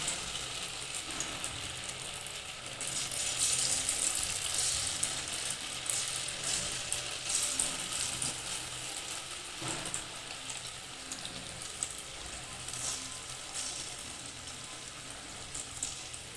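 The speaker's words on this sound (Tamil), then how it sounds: "எண்ணெய் காஞ்சவொடனே போட வேண்டியதுதான்." Pakoda batter of bitter gourd and finger millet flour fries in hot oil with a continuous, fairly close hiss that swells slightly early on and then settles into an even sizzle, with no talking.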